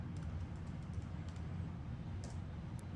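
Quiet keystrokes on a computer keyboard as a mkdir command is typed into a terminal, soft scattered clicks over a low steady background hum.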